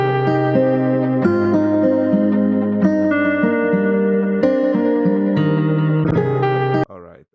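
A sampled Afrobeat gospel loop from a Cymatics sample pack, with steady sustained chords and a stepping bass line playing continuously with effects and reverb, then cutting off abruptly near the end.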